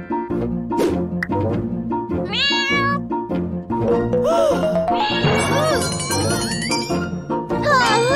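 A kitten meows repeatedly in a children's cartoon, high rising and falling cries layered with a voice, chimes and background music.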